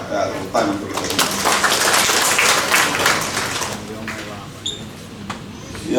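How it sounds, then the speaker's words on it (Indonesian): Audience applause at a thanksgiving gathering of advocates: a dense wash of clapping builds and holds steadily for several seconds, then fades to a few scattered claps. "tepuk tangan untuk kita semua"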